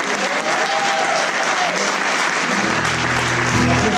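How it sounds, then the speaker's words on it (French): An audience in a hall applauds the musicians, a sustained burst of clapping from many hands that stays loud throughout, with a low hum or murmur joining in the final seconds. "Est-ce qu'on peut applaudir les musiciens?"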